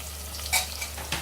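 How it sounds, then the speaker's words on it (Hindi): Salt, red chili, turmeric and coriander powders being stirred and roasted in a pan for Sindhi puri bhaji, a brief, soft sizzle with a couple of light spatula scrapes, no speech. "अब इन मसालों को मिक्स कर लेते हैं। कुछ सेकंड तक इसे भून लेते हैं।"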